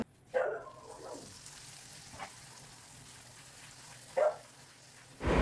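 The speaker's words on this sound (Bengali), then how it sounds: "এইবারে লুচিগুলো ভেজে নেবো" Hot oil sizzles softly in the background, flaring into louder bursts of frying a few times as luchi dough drops into the pan.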